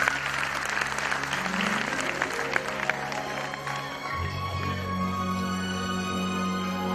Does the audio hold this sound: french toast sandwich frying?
no